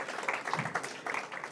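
An audience gives a brief round of applause, a short patter of many hands clapping at moderate volume, with no speech.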